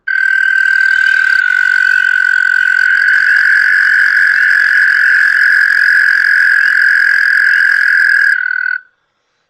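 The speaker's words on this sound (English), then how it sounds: "this long single trill is the American toad" An American toad gives one long, sustained musical trill at close range, steady and loud for about eight seconds before cutting off, with spring peepers faintly audible in the background.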